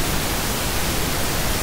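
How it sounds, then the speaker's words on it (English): Pink noise test signal played loudly through a sound system for tuning, a steady dense broadband hiss that holds constant, then cuts off abruptly at the end. "people insist that we need to run this pink noise signal at crazy hot levels so they can tune properly"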